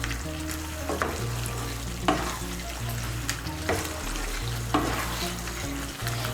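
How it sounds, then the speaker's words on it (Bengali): Ghee and garam masala powder being stirred into soybean kosha frying in a pan, a steady close sizzle broken by several scraping spoon strokes at irregular intervals, with no talking. "ঘি আর গরম মশলার গুঁড়োটাকে ভালো করে মিশিয়ে নেব।"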